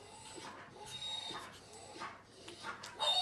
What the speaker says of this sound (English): Sorry, you hear my crazy puppy,